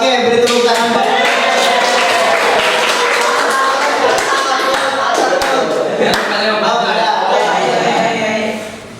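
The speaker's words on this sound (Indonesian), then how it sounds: "Oke, beri tepuk tangan." A class of students claps together after a rhyme is recited in a school classroom, dense rapid hand claps running continuously at close range with voices mixed in, then fading out at the end.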